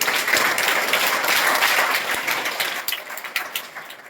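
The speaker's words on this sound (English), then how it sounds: "Yes, clap for him." An audience at a school Teachers' Day celebration applauds; thick, many-handed clapping holds steady, then thins and fades toward the end.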